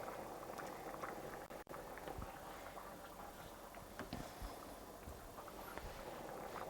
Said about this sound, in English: you can see it's been boiling